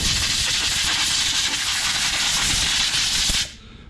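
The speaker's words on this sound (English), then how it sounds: "I'm gonna blow the dust off this thing first." Compressed air blasts dust off a Honda push mower that has sat unused for a year, a loud, close, continuous hiss lasting a few seconds before cutting off abruptly.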